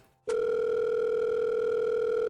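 A phone call tone in a horror visual novel plays as one steady, unbroken electronic tone lasting about two seconds, loud and clear against silence.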